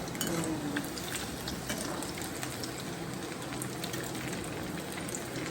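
Chips frying in a pan of oil, a dense continuous sizzle and crackle at an even level from start to finish, close and steady, with no one speaking.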